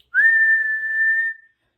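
A voice imitating an old stovetop kettle with a flip lid whistling, one steady high whistle held for over a second, close and clear, then silence.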